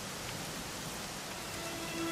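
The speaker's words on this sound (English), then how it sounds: "it was raining like this the last time I ever saw her" Rain falls steadily in the video game Dragon Quest XI, a soft, continuous hiss that holds at an even level for the whole stretch, with no one talking.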